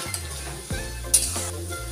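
Onion, leaves and fenugreek seeds frying in a pan, a steady close sizzle with a few light stirring scrapes and faint clinks.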